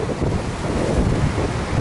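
Rough early-morning surf on an empty Miami beach in Florida roars steadily with heavy wind buffeting the microphone, loud and continuous throughout.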